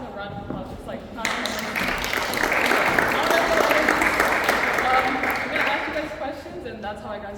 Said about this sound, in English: can I just have a round of applause?